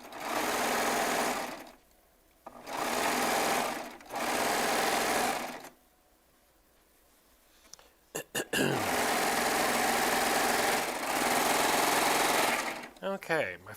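A Baby Lock Triumph serger stitches rows of fabric in several loud, close bursts of rapid whirring, separated by brief pauses with quiet handling sounds.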